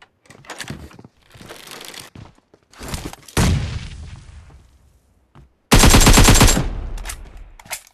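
Bursts of AKM rifle gunfire in PUBG Mobile's Metro Royale mode, loud and close, coming as several separate volleys with the heaviest, densest burst near the end and short pauses between.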